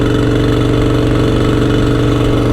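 A motorcycle engine running steadily and loud during a ride through unfamiliar neighborhoods, a continuous low throbbing hum with no speech over it.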